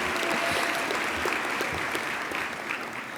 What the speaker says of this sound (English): Yes, you can applaud for them.